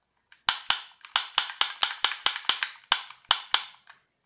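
A toy pistol fires about a dozen sharp, snappy cap-gun cracks in a quick, slightly uneven sequence, each pop crisp and close with brief silence between.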